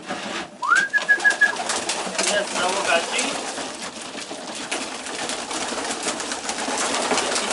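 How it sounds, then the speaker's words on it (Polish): Pigeons coo softly in a loft of male birds, with a few louder calls early on, under a steady background hum and a brief spoken phrase. "teraz pójdziemy karmić gołębie. O, jesteśmy w gołębniku samców"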